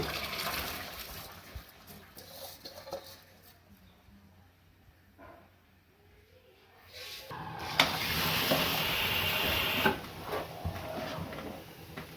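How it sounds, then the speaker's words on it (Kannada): Rice being rinsed in water for Ambur chicken biryani: soft swishing and splashing, quieter at first, then a louder, steadier stretch of sloshing water in the second half. "ಇವಾಗ ಅಕ್ಕಿ ತೊಳೆದು ಹಾಕ್ತಾ ಇದ್ದೀನಿ"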